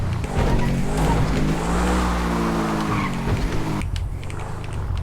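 A car in the GTA video game revving hard as it accelerates, with a loud continuous engine whine rising in pitch, tire squeal mixed in, and an abrupt drop near the end.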